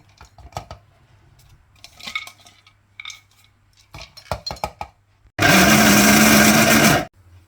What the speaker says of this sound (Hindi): और उसी में ही पिस्ते बादाम पीस लेते हैं।